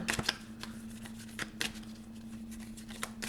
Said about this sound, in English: I'm just going to give the deck a quick shuffle.